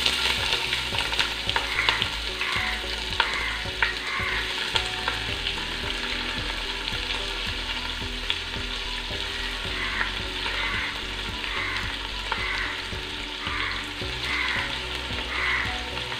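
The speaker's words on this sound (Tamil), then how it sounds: "இது வந்து நல்லா நம்ம ப்ரௌனாக வதக்கணும்" Four large and four small onions sauté in oil with star anise and cloves for plain biryani, giving a steady, dense sizzle with stirring scrapes and small crackles throughout.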